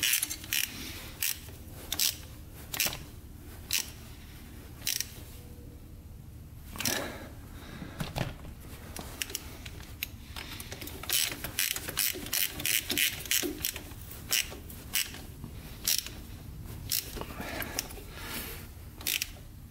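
Ratchet wrench cranking down the chain adjuster bolts on a Yamaha YFZ450 quad, a close, steady run of quick metallic clicks in bursts with short pauses between strokes.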